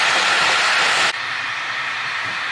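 Train running, heard from inside a carriage: a loud, hissing rush that cuts abruptly about halfway through and drops to a lower, duller rumble that continues steadily.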